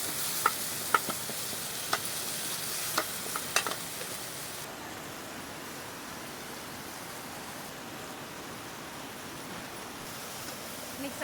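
Chicken frying in a pan with onion and tomato, a steady soft sizzle with a few clinks and stirring knocks early on, then continuous quieter frying.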